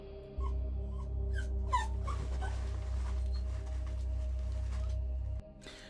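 A distressed dog whines and gives thin, high whimpers and yips, faint and scattered over a steady low electrical hum in a quiet room at home.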